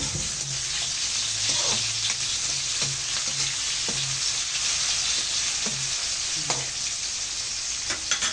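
Garlic and tomato sauté in a pan for string beans, a steady broadband sizzle with repeated scraping stir strokes throughout, close and continuous with no talk.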